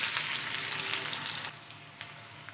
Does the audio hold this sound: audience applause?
no